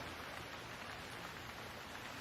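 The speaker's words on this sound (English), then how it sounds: "the rain beats down on your umbrella with the percussive rhythm of a snare drum" Rain beats down on an umbrella near a lighthouse, a dense, steady hiss of drops with no breaks, soft in level and without any voices.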